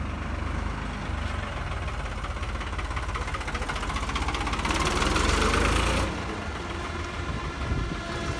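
A 2015 tractor engine idles with a steady, throbbing diesel rumble that swells slightly for a moment before settling back, loud and close.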